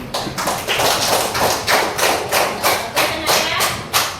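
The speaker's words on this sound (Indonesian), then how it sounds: "Bagus, beri aplaus." Classroom applause during an Islamic religious education lesson, a close, steady rhythmic patter of clapping hands that repeats in even pulses throughout, with a voice faintly underneath.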